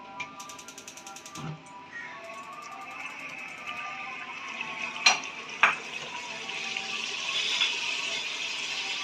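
Mutton, tomatoes and yogurt frying together in a pot for biryani, a low continuous sizzle with a few sharp clinks and scrapes of stirring, faint and close.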